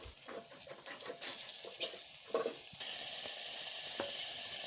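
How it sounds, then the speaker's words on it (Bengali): Ginger paste added to a hot pan sizzles close by, with scattered scrapes and stirring clatter at first, then a bright, even sizzle that settles in and continues to the end. "এবারে আদা বাটা একটু দিলাম,"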